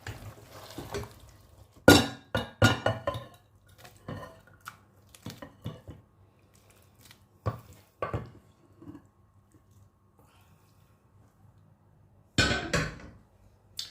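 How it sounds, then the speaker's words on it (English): A spoon stirs a pot of shepherd's pie filling, making scattered clinks and scrapes against metal in short bursts separated by quiet gaps, close by with no talk. "Give it a stir."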